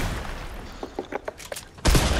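Bursts of machine gun fire crackle in quick, sharp clusters during a VR shooter match, ending with a louder, boomy blast.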